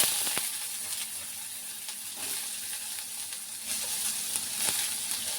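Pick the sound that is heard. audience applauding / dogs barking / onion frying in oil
onion frying in oil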